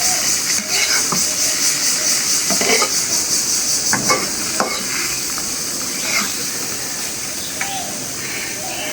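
Raw green tomatoes fry in a pan with a steady loud sizzle and hiss throughout, punctuated by occasional utensil scrapes and taps against the pan, up close.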